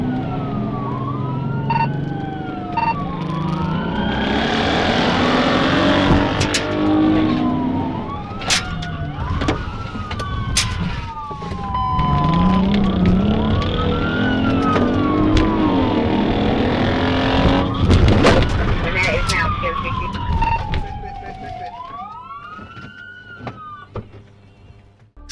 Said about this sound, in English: Trooper Niles was the first on it, eyes-locked sirens on not letting that car get another free mile.